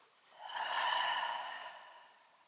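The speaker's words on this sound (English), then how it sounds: "Exhale through your mouth." A single long exhale through the mouth during a beginner yoga class, a soft breathy whoosh that swells and fades over about two seconds, close and alone with no talk.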